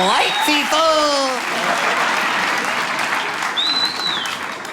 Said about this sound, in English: a big round of applause for Kansas City